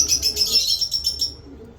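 Pigeons chirp in quick bright bursts close by for about a second, then fade out, leaving a quiet background.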